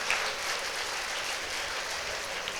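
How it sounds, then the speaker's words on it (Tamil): Applause from an audience at a Tamil debate show, a steady wash of clapping that holds at moderate, even loudness throughout, heard from a little distance with no voice over it. "இதுக்கு மட்டும் கைத்தட்டு பயங்கரமா வருது பாரு."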